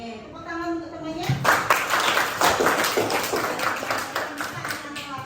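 A group of children in a classroom break into lively clapping after a teacher's voice, the applause rising suddenly and continuing in a dense, uneven patter until the end.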